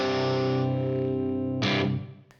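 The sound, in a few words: electric guitar with P90 pickup, lower gain effect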